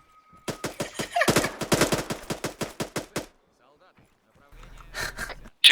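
Rapid bursts of PKP machine gun fire from the ARMA III military shooter, a loud string of about a dozen evenly spaced sharp shots, followed by a pause and scattered radio chatter with low rumble.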